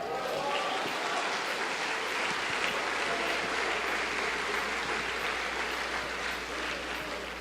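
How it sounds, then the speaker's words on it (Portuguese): Steady, even applause from an audience, continuous clapping at a moderate level with no voices standing out. "Vamos aplaudir ao Rei."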